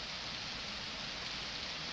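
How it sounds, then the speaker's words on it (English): Steady rain in the post-apocalyptic video game 35MM hisses as a soft, even wash of noise, constant and faint with no talk over it. "The rain effect is awesome, right?"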